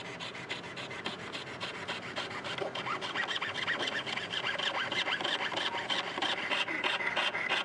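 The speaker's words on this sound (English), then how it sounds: "Then, saw through to create the bridge." Fine rasping strokes of a small saw cut through a Superfit installation blank to form the bridge, a quick, even back-and-forth scratching that is quiet and close and builds slightly in intensity.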